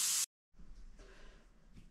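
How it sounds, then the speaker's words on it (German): A brief, loud hiss of air escaping from a gravel bike tyre valve, cut off abruptly, followed by quiet low background noise. "Luft aus dem Reifen rauslassen"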